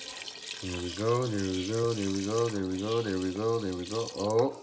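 Water pours steadily into a cooking pot during preparation of goat trotter paya, a constant splashing hiss running beneath a person's continuous talking.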